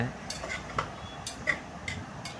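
Raw banana curry with gravy is stirred in a pan, the spoon making soft, intermittent scrapes and taps every half second or so over a quiet, low background.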